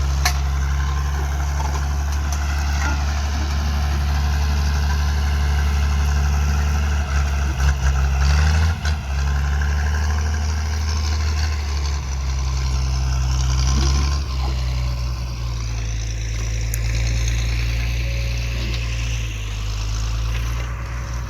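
Tractor plowing up land for planting, its engine droning steadily and loudly close by with a deep, constant rumble for the whole stretch, no voices over it.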